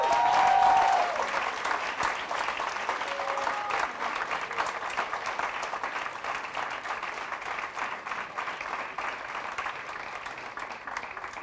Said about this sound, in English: I'd like to give a huge round of applause to Anirban Dasgupta